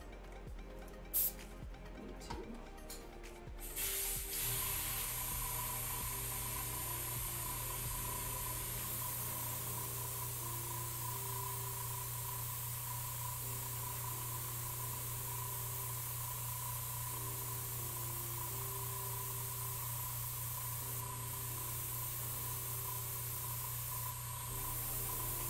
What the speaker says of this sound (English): We'll spray that on real quick and compare the two.